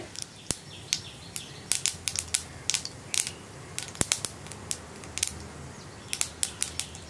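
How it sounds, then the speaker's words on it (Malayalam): Mustard seeds pop and splutter in hot oil, sharp irregular crackles bursting over a soft sizzle, close and fairly loud. "നമ്മുടെ കടുക് പൊട്ടി കഴിഞ്ഞുകൊണ്ടിരിക്കുന്നുണ്ട്."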